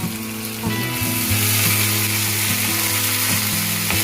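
Ginger paste fries in a hot pan with a loud, steady close-up sizzle, a low hum running underneath throughout.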